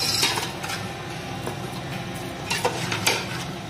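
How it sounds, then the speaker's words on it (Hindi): Biryani masala with ginger garlic paste and yogurt frying in a pan makes a steady low sizzle, with a few light clinks of a spoon against the pan, close and without talk. "अभी का मसाला फ्राई हो रहा है"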